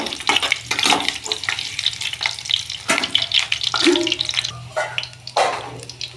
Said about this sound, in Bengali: পটলটা ভালো করে ভেজে নেব।